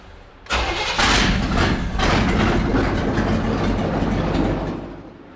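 A 1970 Chevy C10 with a swapped engine cranks and catches almost at once, then settles into a loud, rough, steady idle up close before it fades slightly at the end.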